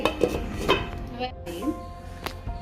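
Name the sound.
lid put on a pot of cooking beef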